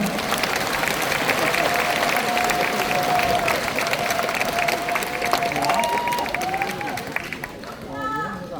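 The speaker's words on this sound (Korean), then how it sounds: "시도당 위원장님께 다시 한번 박수 부탁드리겠습니다." A large convention audience at a People Power Party joint rally applauds steadily as provincial and city party chairs walk onto the stage, a dense sustained wash of clapping and crowd noise with a voice over a loudspeaker rising near the end.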